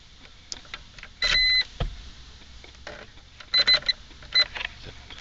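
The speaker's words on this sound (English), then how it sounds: "The beeper is broken" The broken beeper of a 1995 Mitsubishi Galant sounds in short, shrill electronic beep bursts, three clusters spaced apart, with faint clicks and cabin noise between them.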